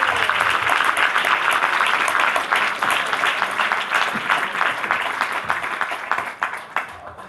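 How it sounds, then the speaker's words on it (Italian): Theatre audience at the Portici in Teatro awards evening applauds comedian Peppe Iodice, loud dense clapping sustained throughout and gradually thinning toward the end. "Un applauso a Peppe Iodice!"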